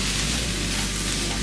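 Mushrooms sizzle steadily in a hot pan, a close, even frying hiss with no pauses.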